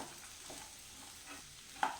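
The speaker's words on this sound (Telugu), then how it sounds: "పోపు అంతా బాగా కలిసేలాగా కలుపుకోవాలి" A spoon scrapes and stirs a spice tempering through sizzling oil in a frying pan, with a soft constant frying crackle and a light clink near the end.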